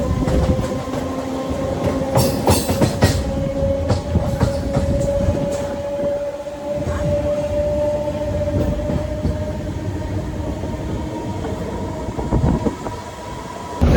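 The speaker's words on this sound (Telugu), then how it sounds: "అప్పుడే సిగ్నల్ ఇచ్చేసి స్టార్ట్ అయిపోయింది అనమాట ట్రైన్ అయితే" A Kakinada Port–Vijayawada MEMU train rolls loudly on the rails with a continuous rumble, an electric motor whine and repeated clickety-clack wheel knocks, heard close from on board.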